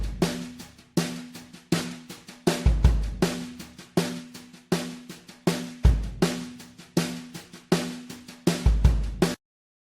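A compressed drum mix with a punchy kick, playing a steady groove of hard-hitting beats with snappy cymbals and a booming low end, loud and alone before cutting off.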